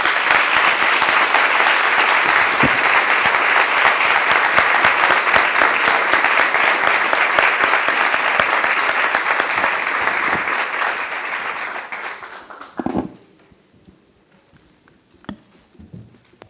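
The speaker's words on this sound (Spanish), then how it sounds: "Pido para estos ejemplares empresarios un fuerte aplauso." Strong, sustained applause from an audience for business leaders at a Bogotá company panel event, steady and dense for about twelve seconds before fading out to a few scattered claps and quiet.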